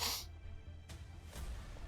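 A single sharp sneeze bursts out at the very start, short and fairly close, then fades into quiet room tone.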